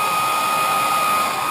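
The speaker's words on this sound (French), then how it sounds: "on va accélérer le processus de séchage au sèche-cheveux" Hair dryer blowing to dry freshly airbrushed paint on a jerkbait fishing lure, a steady, loud whirring hum of air held close and unchanging throughout.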